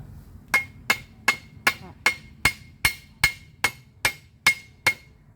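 Twelve sharp, evenly spaced hammer blows strike the side of a joined strip during a garden repair, each a bright metallic crack with a ringing tone, close and loud in a steady rhythm.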